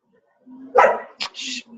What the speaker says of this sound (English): That's my dog is barking.